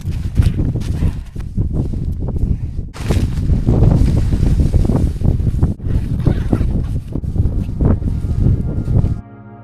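Wind buffeting a snowy winter survival shelter during a snowstorm: a loud, continuous low rumble with gusty surges and brief dips, close to the microphone.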